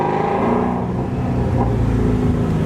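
A Shelby GT350 V8 revs up to about 3,200 RPM inside an underpass with the windows cracked, a steady loud low rumble that swells slightly and echoes off the concrete.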